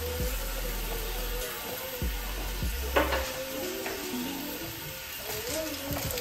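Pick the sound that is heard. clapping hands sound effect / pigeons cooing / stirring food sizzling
stirring food sizzling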